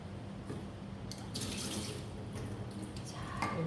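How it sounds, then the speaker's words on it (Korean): Seafood mix being rinsed by hand in water at a kitchen sink, a steady close splashing and running-water wash with brief sloshing bursts throughout. "해물 믹스 종류는요, 그냥 가볍게 물에 흔들어서 씻어서 사용을 하시면 됩니다."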